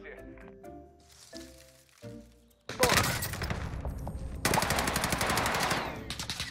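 Automatic gunfire from an M4A1 rifle in the Warzone video game, with loud, dense bursts breaking out midway and continuing to the end, after a stretch of quieter game sound and talk.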